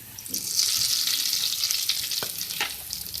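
A hot spiced tempering of oil with Kashmiri red chili powder sizzles as it is poured over a cooked potato, spinach, cauliflower and pea dish, a bright continuous hiss with a few clinks and stirring taps, no speech.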